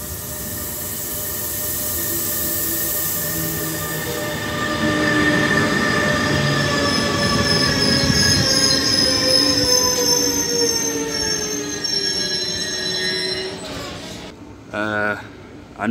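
A train rolls past a station platform in Uelzen close by with sustained high-pitched wheel squeal and rumbling, the screech rising and falling before a brief clatter near the end.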